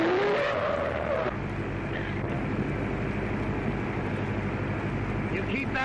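An old car from a 1932 film drives fast at about fifty miles an hour, giving a steady, rough engine roar with a brief tire-like squeal at the start, while voices speak over it.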